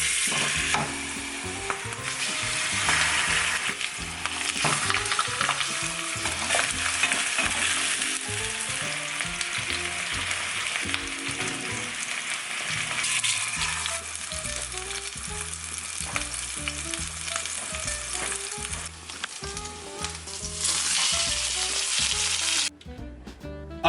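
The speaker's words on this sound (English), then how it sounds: "Only browning the meat." Birria meat browns in a pan over a high flame, with a loud, continuous sizzle broken by repeated scraping and stirring of the pieces. It runs for the whole stretch with no voices and ends abruptly.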